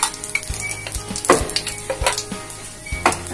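Panch phoron spices hit hot oil in a wok and fry with a loud, steady sizzle, with repeated sharp crackles and pops from the seeds close by.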